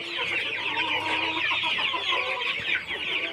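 Desi chickens on a farm cluck and chatter continuously, several birds close by, making a busy overlapping murmur with no speech.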